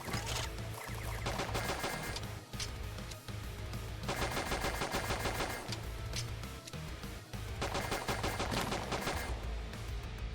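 Enemy gunfire in a NextFest tower-defense game demo, rattling in dense continuous bursts with brief gaps, loud and close, layered over game music with no talk.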